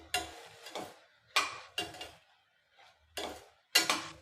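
Bitter gourd with turmeric being sautéed in a pan: a series of sharp clatters and scrapes of a utensil against the pan, about six distinct strokes with short pauses between, close and fairly loud.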